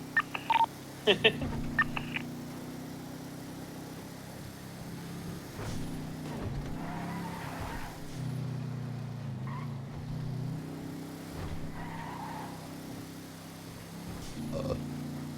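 Cars in a video game rumble and drone past in low, sustained engine tones with swelling passes, preceded by a few sharp electronic beeps, while faint voices sit in the background.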